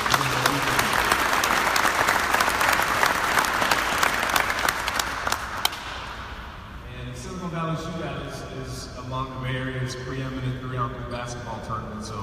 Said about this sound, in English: we got to give a round of applause for our host